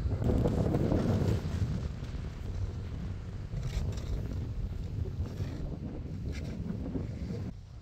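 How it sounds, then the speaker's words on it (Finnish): Strong wind blows across an open ski slope at night in Ruka, buffeting the microphone with a constant roaring rush that eases slightly after the first second. "Tää tuulee yllättävän paljon."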